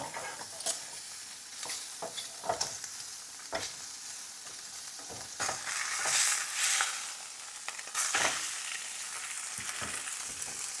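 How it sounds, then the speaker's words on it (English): Shrimp fry in a hot pan, a steady sizzle broken by sharp scrapes and clatters of stirring and flipping, with louder hissing bursts mid-way and near the end. "I'm gonna go ahead and flip my shrimp over"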